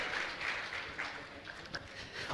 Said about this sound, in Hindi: उनके परिवार के लिए भी जोरदार ताली बजाकर इनका सम्मान करें।